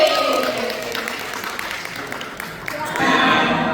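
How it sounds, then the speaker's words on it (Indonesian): An audience claps for Father Antonius Rosari, SVD, at a church gathering, a steady, moderately loud patter of applause that swells louder near the end. "Bapak Ibu kita minta tepuk yang meriah untuk Romo Antonius Rosari SPD"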